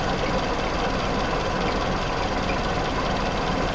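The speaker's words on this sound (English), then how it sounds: "We're just running it on idle right now." Jeep CJ2A engine idling with ticking valves, a dense, steady mechanical drone heard up close with no break or change across the span.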